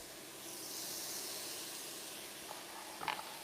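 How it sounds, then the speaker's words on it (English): A steady, close sizzling hiss of chicken frying in a pan for chicken laksa, with a few small pops and crackles near the end. "You want to get that sizzle on the chicken."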